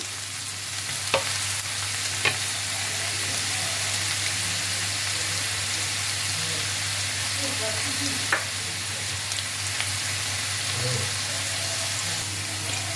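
Onions lightly frying in a pan give off a steady, even sizzle throughout, broken by a few faint clinks and stirring taps.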